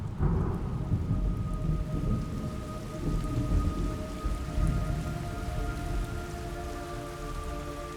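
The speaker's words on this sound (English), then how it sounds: "It's raining blood." Steady heavy rain pours down while thunder rumbles low and distant, with no voices, in the video game Metal Gear Solid Delta: Snake Eater.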